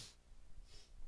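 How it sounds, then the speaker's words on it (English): A couple of soft, airy sniffs through the nose, close to the microphone and quiet, with faint breathing in between. "I can stop sniffling on the mic."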